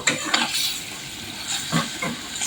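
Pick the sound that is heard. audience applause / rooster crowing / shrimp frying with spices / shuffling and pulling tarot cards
shrimp frying with spices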